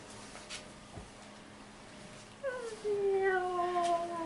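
Alley cats yowl and caterwaul as a comedic sound effect, rising wavering cries that come in loud after a quiet start, with a couple of overlapping meows near the end.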